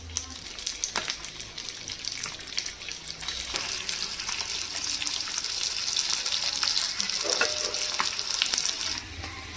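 Korameenu fish pieces fry in a pan for a second time, a continuous crackling sizzle that grows slightly louder, with faint background noise and no clear speech.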